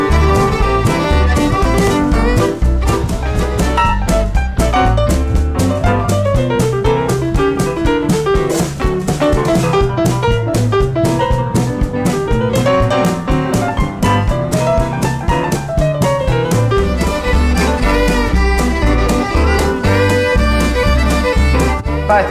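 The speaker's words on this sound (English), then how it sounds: "That is the sound of Western swing, I think, twin fiddle." Two fiddles play a bright, swinging Western swing melody in harmony over a steady rhythm band, loud and continuous throughout.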